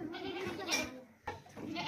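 A goat bleats twice in quick succession, close and moderately loud, in an outdoor livestock setting with faint background noise.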